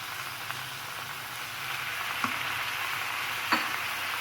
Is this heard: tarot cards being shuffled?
no